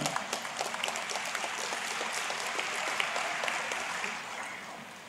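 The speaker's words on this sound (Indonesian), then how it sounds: "Kita tepuk tangan" Sustained, dense clapping from a large audience at a university public lecture at Universitas Islam Sultan Agung, welcoming over 6,500 new students. It stays steady and fairly loud for about five seconds, then eases slightly at the end.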